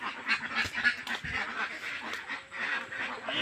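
A flock of ducks on a farm quacks and honks in a dense, continuous chorus of overlapping calls, close and moderately loud, with no one talking.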